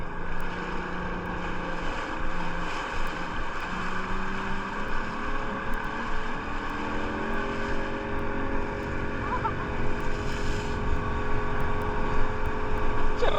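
A motorboat towing a banana boat across the Indian Ocean off Musandam, Oman drones steadily up close, its engine hum rising slightly as wind buffets the microphone throughout.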